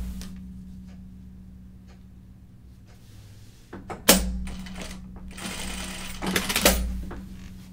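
A sewing machine stitches a waistband onto bib overalls in short bursts, its motor whirring and needle clattering up close, with quieter pauses between runs.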